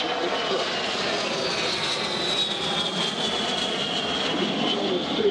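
Lockheed Hercules transport aircraft flown by an RAF 30 Squadron crew passes overhead in an air show flypast at RIAT 2012, a loud, steady engine roar that holds throughout.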